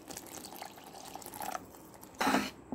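Water is poured into a thick paneer butter masala gravy in a cooking pot, a brief splashing, bright pour late in the clip that rises above low kitchen background noise.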